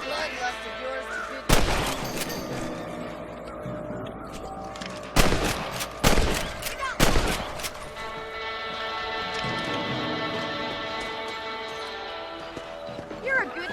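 Gunshots from Red Dead Redemption as John Marston shoots rabbits at the crops: several loud, sharp cracks in close succession over game ambience and horse hooves, with voices talking in between.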